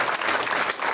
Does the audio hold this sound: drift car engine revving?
no